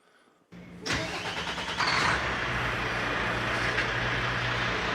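A Mack Pioneer heavy-duty truck engine cranks and fires, then settles into a loud, steady idle close by, with no voices over it.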